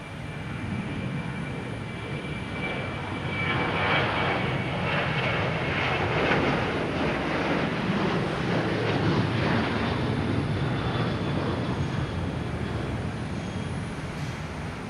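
Airplanes on a runway at Boston Logan Airport give off a steady, broad jet-engine roar. It swells slightly in the middle and holds for the whole stretch, with no voices over it.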